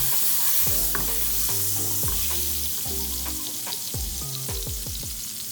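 A stick of butter melts in a hot pan with a continuous loud fizzing sizzle, while low tonal clunks and knocks recur underneath, and no one speaks.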